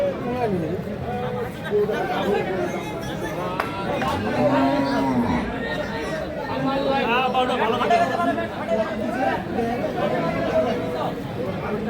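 Holstein Friesian cattle low now and then amid a busy livestock market crowd's steady chatter, with many voices talking at once close by.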